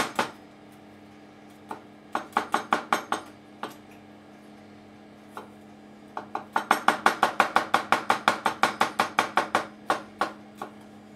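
A knife chops through garlic cloves on a cutting board, quartering them in sharp, close clicks, first in sparse bursts and then in a fast, even run of repeated cuts.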